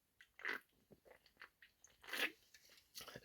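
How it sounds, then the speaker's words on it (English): Slurping a drink indoors: a few short wet sucking bursts, fairly quiet and close, separated by soft mouth noises. "Excuse the slurping noises."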